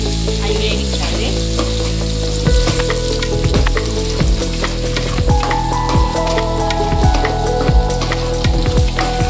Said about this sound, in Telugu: అవి వేగించాలి.